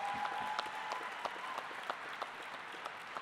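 An audience at the 2018 New York State Democratic Convention applauds with a steady patter of clapping. It sounds somewhat distant and is fairly faint, with a few sharper individual claps standing out.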